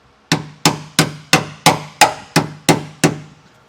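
Nine sharp, evenly spaced taps ring out close by as a bolt is driven into place on a 2013 Ram 2500 while fitting Westin Outlaw nerf bars, each strike decaying quickly before the next.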